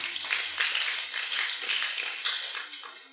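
A church congregation at a Sunday service claps together, a steady, dense wash of many hands filling the room for about three seconds with no pauses and no voices on top.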